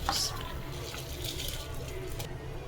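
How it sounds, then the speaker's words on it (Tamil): Water drains and pours as soaked rice is strained and tipped into a pot of boiling water for prawn biryani, a steady close splashing and trickling wash with a brief brighter splash at the start. "இந்த அரிசியை வந்து தண்ணியெல்லாம் நல்லா வடிகட்டிட்டு இந்த அரிசி இதில் போட்டுக்கலாம்."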